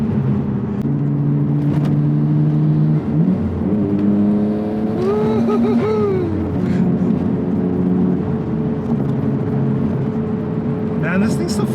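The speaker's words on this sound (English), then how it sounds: "The engine response is so good." A Nissan Skyline GT-R R32 engine drones steadily while driving, its low harmonic hum rising briefly in pitch mid-clip as it revs, with road and cabin noise throughout.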